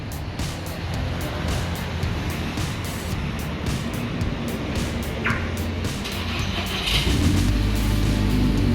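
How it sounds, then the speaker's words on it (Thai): An Audi TT's engine, started remotely with an LCD keyless-start remote, settles into a steady low idle rumble, with a slightly heavier surge toward the end; no one talks over it. "อันนี้รถได้ทำการสตาร์ทแล้วนะครับผม"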